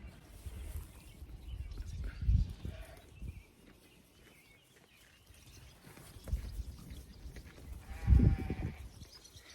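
Sheep bleat a few times at a moderate distance in a paddock, with quiet outdoor ambience between the calls.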